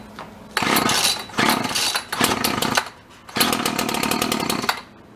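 An old Sears small gas engine runs on choke, loud and close, surging in uneven revving bursts with brief dips and stumbles between them.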